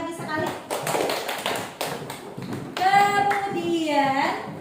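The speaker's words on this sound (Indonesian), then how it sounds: "Kita beri tepuk tangan lagi sekali." A classroom of students claps for a group that has just presented, with a burst of irregular, close hand claps early on, followed by children's voices talking.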